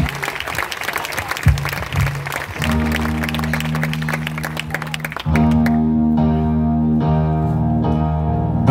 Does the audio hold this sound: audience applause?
yes